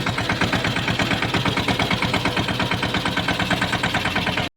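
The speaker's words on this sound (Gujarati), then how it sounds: "આપણે ડુંગર ઉપર ચડી ગયું છે ટ્રેક્ટર" A tractor engine that has just climbed a hill runs close and loud with a fast, even, pulsing chug that holds steady throughout, then cuts off abruptly at the very end.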